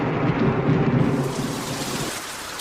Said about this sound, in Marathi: पण पाऊस काय थांबायचं नाव घे नाही